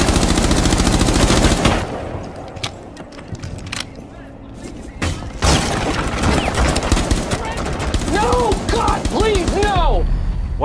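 Rapid automatic gunfire from Rainbow Six Siege, loud and close, rattles in dense bursts, then breaks into scattered shots and more bursts with game effects. A player talks briefly over it.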